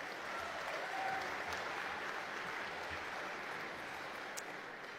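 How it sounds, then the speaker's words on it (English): Audience applause at a football club Q&A night honouring a 300-game milestone: a steady, even wash of clapping from a crowd, heard from a distance and fairly faint throughout. "Yeah, I think that deserves a round of applause."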